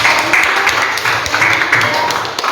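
Applause from a classroom of students for a fellow pupil, a steady patter of many hands clapping at close range for a couple of seconds with faint voices mixed in.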